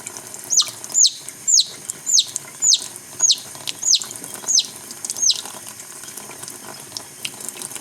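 Tap water runs over a downy chick being washed to soften pasty butt, a faint flow beneath a series of about eight sharp, high chick peeps in a steady rhythm that fade toward the end.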